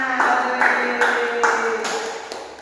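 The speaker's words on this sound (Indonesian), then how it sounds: "Oke, tepuk tangan semuanya." A classroom group claps together during a science lesson, a few short bursts of hand claps with a teacher's voice and a tonal ring running underneath.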